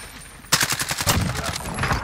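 Rapid SMG gunfire from an online Call of Duty Warzone match, sounding as a sudden close burst of fast shots that starts partway in and keeps rattling in uneven volleys to the end.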